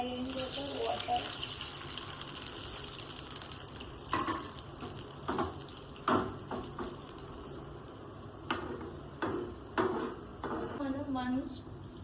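Water goes into a hot pan after mustard seeds and chillies have fried for dhokla tempering, giving a hissing sizzle broken by several bursts of splashing and utensil clatter, with faint speech in the background.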